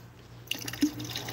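Liquid bee feed is poured into a tote, a short burst of trickling and splashing liquid with a few drips, close and fairly quiet, with no talk.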